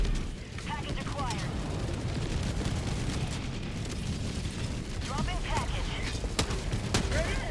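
Grenades keep exploding in Helldivers 2 in a steady, dense stream of booms and rumbling blasts, with people talking over the din.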